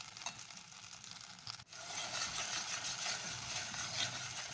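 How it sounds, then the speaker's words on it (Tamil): Ripe jackfruit pulp sautéing in ghee, a steady close hiss of frying with a brief stirring bump partway through, continuing evenly afterward. "இப்போ நம்ம இந்த நெய்யிலே வதக்கி எடுக்க போகிறோங்க"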